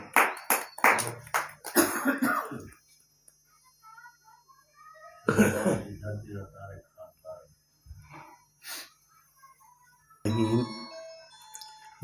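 Audience applause breaks out at a Saraiki poetry mushaira, brief bursts of clapping between stretches of someone speaking on a microphone.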